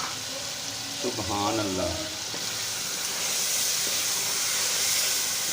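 Meat fries in a pan with yogurt, mint, green chilli and coriander chutney, giving a constant loud sizzle and hiss. Someone speaks briefly near the start over the frying.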